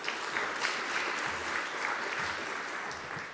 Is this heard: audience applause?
yes